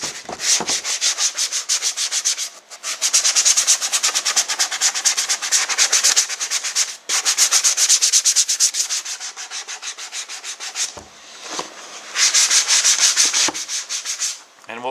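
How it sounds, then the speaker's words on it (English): Rough sandpaper block scrubbing the carbon fiber skid plate of a KTM 690R: fast, steady back-and-forth rasping strokes, close and fairly loud, in several long bursts separated by brief pauses. "we're going to now find the roughest sandpaper block I can get. This one's pretty rough. And just start roughing up the surface."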